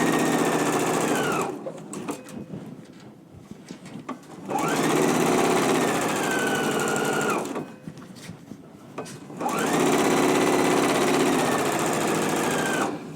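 Sewing machine stitching a 5/8-inch seam attaching the casing on a pair of pants, running in three steady sustained bursts with brief quiet pauses between them, loud and close with no talking.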